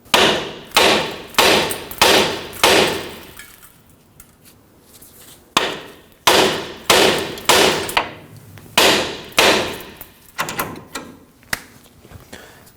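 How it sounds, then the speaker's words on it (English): Hammer blows ring out against the steering knuckle of a 2009-2014 Ford F-150 to free the outer tie rod, landing in loud, close bursts of rapid metallic strikes with short pauses, then lighter taps at the end. "To release the outer tie rod from the knuckle, we'll go ahead and strike the knuckle right here"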